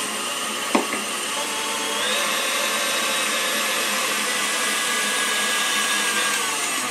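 An electric mixer whirring steadily at low speed through sour cream donut batter, a close, continuous motor hum with a small knock near the start and a slight rise in pitch partway through.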